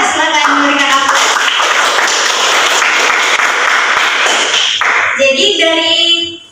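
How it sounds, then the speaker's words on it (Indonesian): Students in a classroom give a burst of loud, dense clapping close by that runs for several seconds and then tapers off, with a brief voice at the start and again at the end. "silakan memberikan aplaus"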